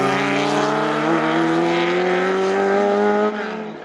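Historic race cars, a Jaguar D-type and a Lister among them, roar past at Snetterton, a loud sustained engine howl with rising harmonic pitch as they accelerate, dropping slightly as they pull away near the end.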